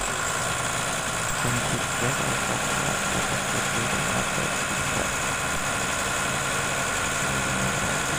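A Nissan UD PK 215 truck engine idles after a tune-up, holding a steady, even rumble throughout while someone speaks briefly over it.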